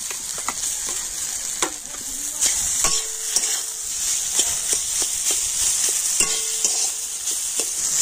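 Boiled potatoes are stirred into ginger and spices frying in oil, producing a constant close sizzle punctuated by frequent clinks and scrapes of a spatula against the pan.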